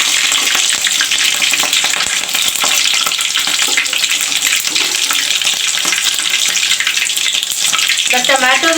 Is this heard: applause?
no